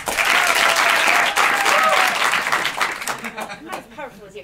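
An audience at an improv comedy show in Paris bursts into loud, sustained applause that thins and fades toward the end, with voices mixed in.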